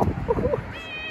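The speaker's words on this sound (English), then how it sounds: "Found a friendly kitty." A friendly cat outdoors in a snowy town gives a short meow, close and fairly quiet, followed by a brief high tone.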